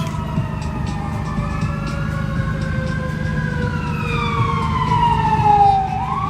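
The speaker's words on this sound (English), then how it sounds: "Wouldn't be a Vegas live stream without some sirens." Wailing emergency sirens rise and fall continuously over a steady rumble of traffic on the Las Vegas Strip at night, loud and fairly near.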